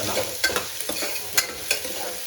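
Onion fries in a pan for a green peas curry, a steady sizzle broken by sharp crackles and clattering stirring strokes at irregular intervals.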